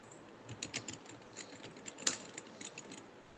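Keys tapped on a computer keyboard while text is entered in PageMaker 7.0, a quick irregular run of close, fairly faint clicks with one sharper keystroke near the middle.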